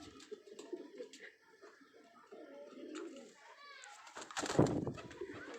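A pigeon coos softly nearby in low, throaty bursts, partly under a person's speech, with a louder rustle or flutter toward the end.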